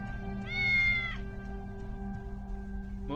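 A cat meows once, clear and drawn out, in the video game Tales of the Neon Sea, over a steady low electronic hum and a faint tonal background.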